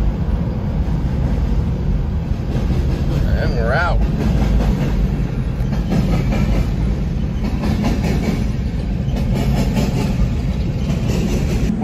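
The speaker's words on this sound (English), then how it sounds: "Oh, we got a train coming by." A train rumbles steadily past inside a vast underground business complex, continuous rolling clatter, loud and close, while a person speaks briefly over it.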